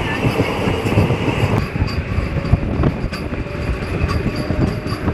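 The Narasapur to Guntur passenger train rolls along with a loud, continuous rumble. Wheel clatter and rhythmic clicks over the rail joints run underneath, with occasional squeals, heard from inside a coach.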